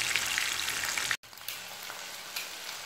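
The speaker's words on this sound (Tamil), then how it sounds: "ரெண்டு சைடு திருப்பி திருப்பி போட்டு ஃப்ரை பண்ணுங்க" Food fries in a pan and is turned from side to side, giving a soft continuous sizzle with a short break and a few louder spatters.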